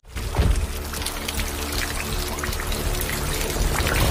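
Water pours and splashes steadily from a sprinkler spray in a film scene, a continuous broad rushing with scattered drips and trickles, moderately loud and uninterrupted, with no voices.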